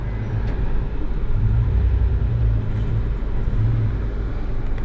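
A 1996 Mitsubishi Montero engine runs steadily throughout, a continuous low rumble with a faint drone, heard close with no talking.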